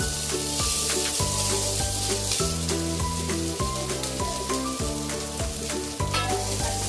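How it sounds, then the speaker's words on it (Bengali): Chopped onion and green chili sizzle steadily in hot oil in a pan, a loud continuous frying hiss with repeated stirring scrapes, close up and with no voices. "এরকম পেঁয়াজ আর কাঁচা লঙ্কাটা একটু ভাজা হয়ে গেছে ভালোভাবে"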